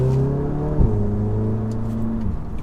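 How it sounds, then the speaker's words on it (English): An Audi A3 with a new charge pipe kit pulls away on a test drive, its engine droning loud and close with a rising tone, a brief bump partway through and a gear change near the end. "let's go ahead and take a drive and see how it does"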